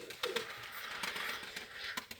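A Takla pigeon in Samarkand coos nearby, with soft repeated throaty notes and a few flutters or clicks, fairly close over light background noise.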